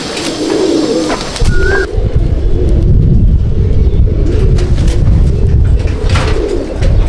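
Pigeons in a loft coo continuously at close range, a dense low rolling chorus with occasional brighter calls, while faint road traffic hums underneath.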